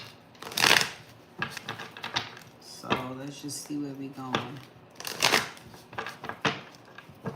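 A deck of tarot cards is shuffled close up during a live reading, with repeated riffling and slapping bursts mixed with a person talking over them.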